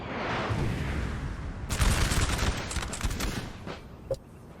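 Massed artillery and musket volleys in Napoleon: Total War, a 4v4 battle against Russian and Austrian lines, roll as a dense, continuous crackling fusillade with heavy booming bursts, loudest midway and thinning toward the end.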